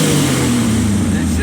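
A car engine with no muffler rumbles loudly and close, a steady low throbbing idle with a slight rise in revs, while someone talks over it.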